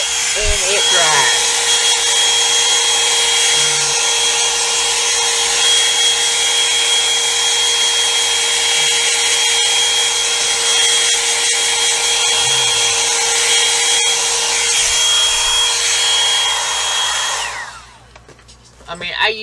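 A hair dryer brush blows with a loud, steady whirring roar close by for most of the clip, then cuts off and winds down near the end.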